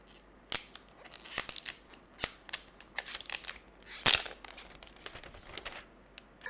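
A Samsung Galaxy A23 5G phone box is opened, with close, sharp snaps, crinkles and scraping of cardboard and paper in irregular bursts, one louder tearing rustle partway through, and no talk.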